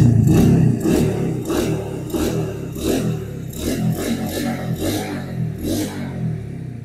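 A Honda Cub 90 motorcycle with electric start runs steadily near the microphone, its quiet, smooth engine note pulsing in a regular rhythm.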